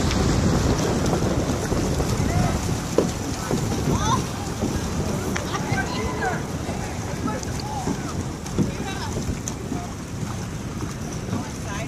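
Canoes pushing off together at the start of a Passamaquoddy canoe race, with wind buffeting the microphone, water splashing and paddles churning steadily while people talk and call out nearby.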